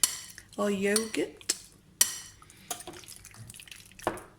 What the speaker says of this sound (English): I'm going to be just using a fork. So I'm just going to get it all mixed in with the yogurt